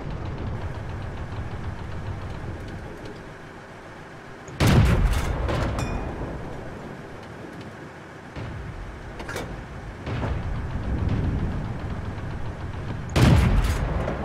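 Tank cannon shots in an online tank battle game, two heavy booming blasts a few seconds apart standing out over a steady engine rumble, with a sharper crack near the end.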